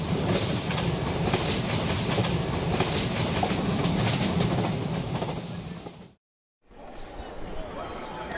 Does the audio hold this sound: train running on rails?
yes